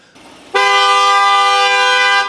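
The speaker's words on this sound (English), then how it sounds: "you're over here honking in a parking lot" A car horn blasts in a parking lot, one loud sustained honk of nearly two seconds, heard alone after a brief faint lead-in.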